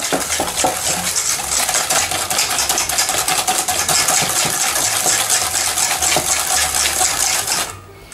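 Sweet potato cake batter being mixed, most likely with an electric mixer: a steady, busy whirring and rattling in the bowl that runs for several seconds and then suddenly cuts out near the end, with no talking.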